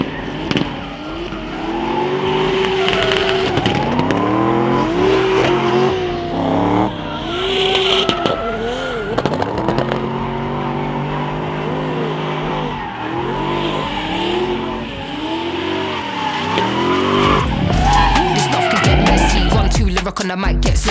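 A drift car revs hard with tires squealing and skidding through repeated slides, loud and close, its engine pitch rising and falling throughout with no talk.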